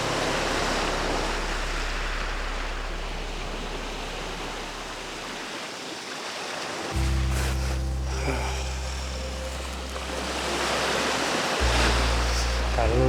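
Ocean water washes in and out near a lighthouse at sunset, a broad steady hiss of surf with a low wind-like rumble underneath, continuous and moderately loud.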